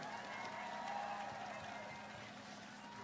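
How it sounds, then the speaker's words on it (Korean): A crowd applauds at an outdoor political rally in Goyang, South Korea, a steady wash of clapping and cheering that carries at a distance for several seconds. "자, 우리 세 분 국회의원께 박수 한번 부탁드립니다."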